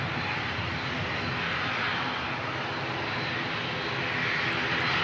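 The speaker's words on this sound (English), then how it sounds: "we've got an Invercargill ATR about to depart, and Jetstar 135 from Cairns on finals now" Airliners at Christchurch Airport, including an ATR turboprop and a Jetstar jet, produce a steady broad engine roar at moderate distance, continuous and unchanging throughout.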